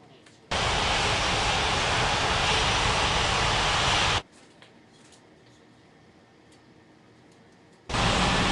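Loud broad jet airplane engine roar from a landing aircraft in an air traffic control video game, a steady blast of several seconds that cuts off abruptly, leaving quieter background hum, then returns at the end.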